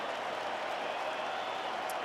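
A baseball stadium crowd at an NLCS playoff game between the Brewers and Dodgers roars steadily, sustaining a loud, unbroken wash of cheering and applause to urge on the pitcher before the pitch.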